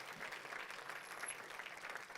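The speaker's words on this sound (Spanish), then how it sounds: "Mateo, denle el aplauso al Señor" Soft, steady applause from a church congregation, continuous clapping heard from a distance.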